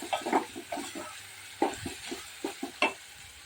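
Ivy gourd masala curry, seasoned with cumin powder, is stirred in a sizzling pan, with soft repeated scraping strokes over a low steady frying hiss and no talking.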